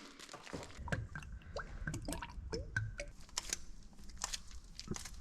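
Diesel fuel is poured into a new fuel filter on an old tractor, giving quiet irregular trickling, dripping and squishing sounds close by, with no talk.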